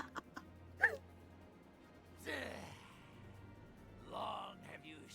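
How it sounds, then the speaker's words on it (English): Faint, distant dog barks echo in a video game world, a few short scattered yelps and whimpers set among quiet groaning voices. "I can hear Ripley barking in the distance"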